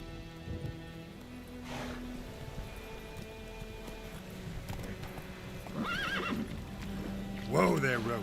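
Roach the horse in Witcher 3 whinnies twice near the end, a rising, wavering neigh over steady hoof clip-clops, rain-like ambience and game music; a voice talks faintly beneath.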